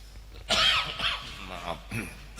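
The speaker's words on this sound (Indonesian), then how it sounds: "Nah ini ujian batuk ya." A man coughs and clears his throat during an Islamic sermon, one sharp close cough followed by rougher throat noises and a smaller cough, fairly quiet over room hum.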